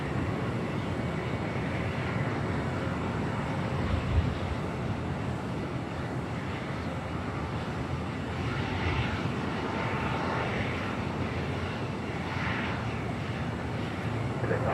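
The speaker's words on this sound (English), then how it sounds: "Norse going to the south. Coming from Oslo in the Dreamliner." A Norse Dreamliner airliner arriving from Oslo takes off from LAX, its jet engines a steady, broad roar at moderate distance that holds for the whole stretch, with some wind buffeting the microphone and no talk.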